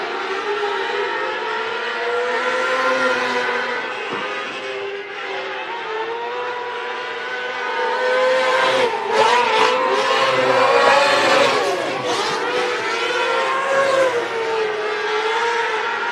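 Race cars roar around the oval at Marion County Speedway during a heat race, a steady loud engine drone that swells as cars pass close by.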